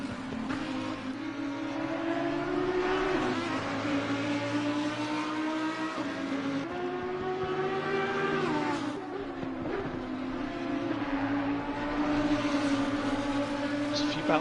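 Race cars in a sprint series round lap the track, engines droning and shifting pitch steadily for the whole stretch as they slide through corners, with a commentator talking over the continuous motor noise.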